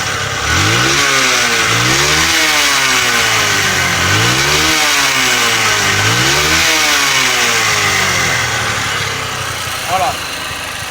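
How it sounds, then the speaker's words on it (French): A close, loud, worn engine runs steadily, its revs swelling and dropping in repeated waves, with a brief sputter near the end. "Le bruit du moteur, c'est un engin qui est un peu fatigué."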